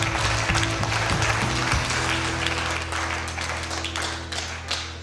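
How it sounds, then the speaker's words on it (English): Wedding guests give a round of applause, steady clapping from a crowd that runs the whole time with a few thuds early on and a low hum underneath. "A big round of applause."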